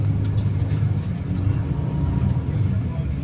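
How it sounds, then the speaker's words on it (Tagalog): Steady low rumble of congested road traffic in Santo Tomas, Batangas, with idling and slow-moving engines close by, continuous throughout with faint talk underneath. "Grabe, traffic dito mga idol."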